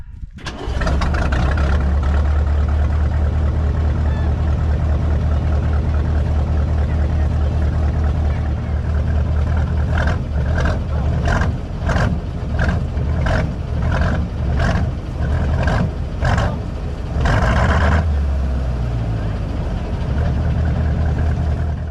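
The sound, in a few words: truck engine starting and idling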